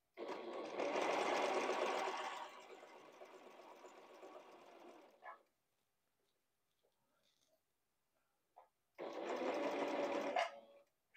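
A sewing machine stitching around fabric for a moth cape, running in two close, steady whirring bursts with a quiet pause between them.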